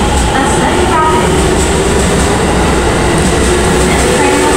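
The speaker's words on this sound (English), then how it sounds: "A train terminating at this station will soon arrive at track number 4." Commuter train arriving at track 4 of Nagoya Station, a rapid service bound for Taketoyo, with a steady loud rumble of rolling stock and a faint wheel whine filling the whole stretch.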